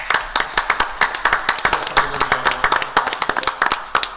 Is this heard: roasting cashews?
no